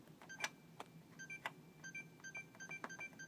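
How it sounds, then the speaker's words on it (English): An Xbox 360 console that will not turn on gives out a run of short, faint electronic beeps, repeated in quick, irregular bursts with soft clicks between. "it is beeping a lot."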